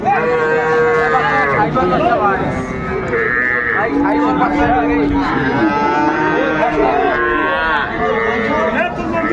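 Young bull calves moo and bleat repeatedly, close and loud, at a livestock market, with voices of people talking mixed into the busy livestock noise.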